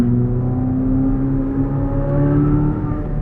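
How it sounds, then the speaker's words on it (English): A 2023 Chevrolet Corvette Z06 driven with the top down gives a steady, close engine drone with a strong harmonic growl that holds level throughout. "it's great for just listening to this engine"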